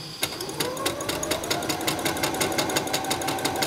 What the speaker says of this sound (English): I'm just going to keep stitching again